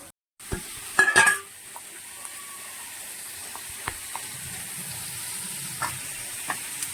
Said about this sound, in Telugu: ఇవన్నీ బాగా ఫ్రై అయిపోయిన తర్వాత దొండకాయలు అయితే అందులో వేసేస్తాను.